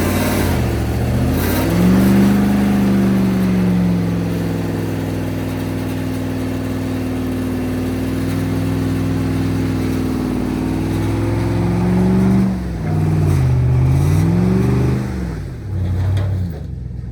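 A two-wheel-drive truck stuck in place, its mid-pitched engine revving steadily and surging in pitch as it strains to get free, close and loud throughout with no talking.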